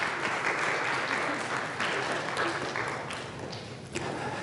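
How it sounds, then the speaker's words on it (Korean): Steady applause from a church congregation during a Sunday service, many hands clapping at once, filling the room at moderate volume. "박수로 다시 한번 격려합시다"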